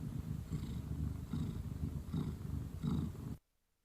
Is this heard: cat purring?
yes